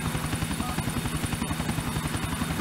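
A helicopter flies steadily in GTA IV, its rotor thumping in a fast, even, continuous beat over a dense engine roar that fills the whole stretch.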